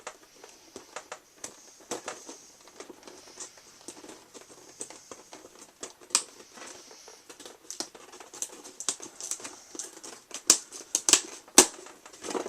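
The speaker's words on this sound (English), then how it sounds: "I'm going to go ahead and pop this out with my X-Acto knife" An X-Acto knife cuts around packaging tape to free a Shadow the Hedgehog figure from its box, making a steady run of small close-up clicks, scratches and crinkles of plastic and tape with sharper snaps scattered throughout.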